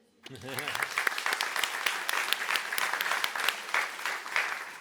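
An audience applauds Christelle Rodet, the Smart City delegate, at the SHAKA Festival 2025 grand opening in Biarritz, with dense steady clapping that swells in quickly and holds loud throughout, and a brief voice near the start.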